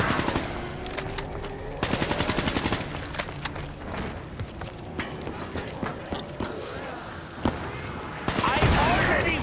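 Gunfire in the Der Eisendrache zombies video game: rapid automatic bursts rattle in several loud volleys separated by quieter stretches of game ambience and scattered single shots, with a voice speaking in between.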